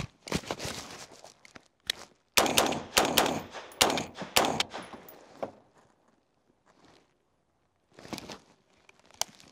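Rapid gunfire rings out in a shooting drill on two targets, coming in loud, sharp bursts of quick shots with brief gaps, then fainter scattered noises and a final short volley.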